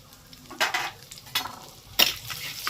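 Slit green chilies in hot butter and ghee, with a soft sizzle broken by three sharp, close bursts of frying and stirring.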